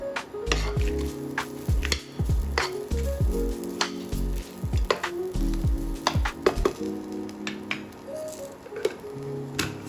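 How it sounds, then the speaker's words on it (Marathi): Dried red chillies, coriander seeds and small onion pieces dry-roasting in a pan, heard as dense clicks, rattles and crackles of spices shifting against metal, close and busy with a hum underneath and no talk. "6 सुक्यो तांबड्यो मिरसांगो घालया आनी 2 व्हडले चमचे सुक्यो कोरिएंडर घालया आनी एक 4-5 धाकटे तुकडे कांद्याचे घालुया आनी बरें भाजून घेवया"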